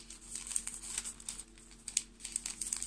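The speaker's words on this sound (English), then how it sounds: "roll it up" A chunk of tape being rolled up by hand, a run of close, soft crinkling and crackling rustles with small irregular peaks, no voices.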